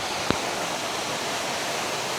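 Waterfall at Gunung Pulai in Johor, heard as steady broadband rushing water close by, with one brief sharp tap near the start and no talking.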